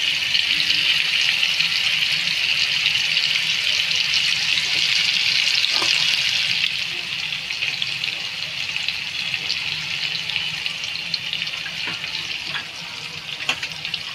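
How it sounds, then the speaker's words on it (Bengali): Water poured from a bowl into a pan of mustard paste and fish, a steady hissing sizzle-like wash that carries on throughout, loud and close, easing slightly partway, with no talk. "এবার বন্ধুরা, আমি এই বাটিটা দিয়ে সামান্য একটু জল দিয়ে দেবো শুধু।"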